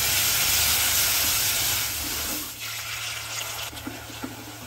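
Golden fried onions with ginger garlic paste sizzle in hot oil over a high flame, a loud, steady hiss that eases a little midway, with a few faint clinks of stirring and no talk.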